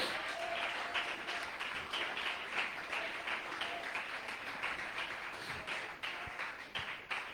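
A church congregation applauds during a Spanish-language sermon, giving glory. The dense clapping is fairly faint and distant, with a broad crackle that holds steady and carries irregular louder hand claps.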